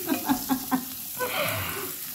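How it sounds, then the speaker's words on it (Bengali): Food sizzles softly in a frying pan after a seasoning of black pepper, a few light stirring taps at first, then a steady low frying hiss with no talking. "তারপরে এইভাবে অল্প অল্প করে সব কিছু ফ্রাই করবেন"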